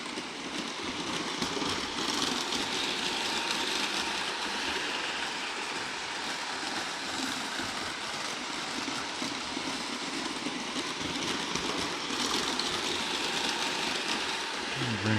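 A Bachmann Big Hauler model train runs at full throttle in reverse on a Chattanooga Railroad layout, giving a steady, continuous whirring rumble of motor and wheels on track that stays at an even level for the whole stretch, with no talking.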